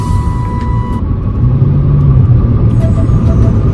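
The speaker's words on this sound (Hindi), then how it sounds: "ये स्पोर्ट्स आवाज कहाँ से आ गई गाड़ी की" A sports car engine rumbles loudly nearby on an open road in Noida, a steady deep roar that swells slightly as it passes, with no talking over it.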